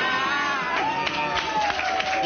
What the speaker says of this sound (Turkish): Yeah, alkışlar.